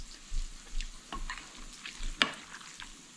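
Bacon and shallots frying in a pan give a soft, steady sizzle with occasional stirring scrapes and one sharper tap, fairly quiet and close, with no voices.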